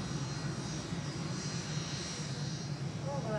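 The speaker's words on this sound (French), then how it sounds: "Dans cet avion en provenance de Hong Kong qui atterrit à Moscou ce dimanche, Edward Snowden." An airplane from Hong Kong lands in Moscow with a steady, loud engine roar that holds throughout, and no talk is heard.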